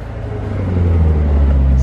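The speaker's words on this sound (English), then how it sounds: "Dual mode exhaust." A GMC Sierra AT4's dual-mode exhaust in sport mode rumbles deeply as the engine revs up, loud and close, a low throaty drone building over two seconds.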